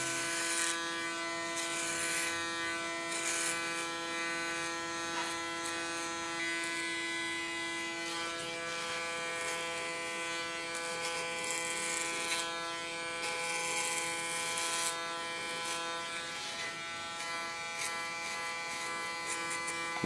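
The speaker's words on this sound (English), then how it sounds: "My lights clipper is from Panasonic. And I love to work with this clipper because it's a wonderful clipper." A Panasonic electric hair clipper buzzes steadily as it cuts hair very short, a close, continuous hum whose pitch and brightness waver as the blades move through the hair, with no talking.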